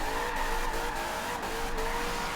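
A Chevrolet Corvette drifts in the video game Forza Horizon 2, its tires squealing in a sustained screech over the engine's steady roar, with brief dips as the slide shifts.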